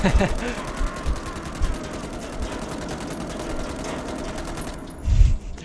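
Gunfire in the horror video game Man of Medan: a steady rattling burst of rapid shots under a dense noisy background, with a few heavier thumps and a speaking voice near the end.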